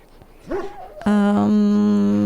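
A dog in the video game Dragon Age Origins gives a short whimpering yip followed by a sustained tonal bark-like cry, close and clear with no talk.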